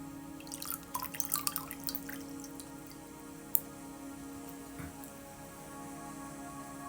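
Melted candle wax dripping into a bowl of water during a candle wax reading, a cluster of soft quick drips and small splashes early on, then a single sharp drop and a quiet background hum.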